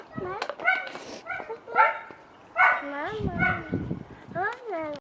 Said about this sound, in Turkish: Köpek şu komşumuzda iki tane köpek var.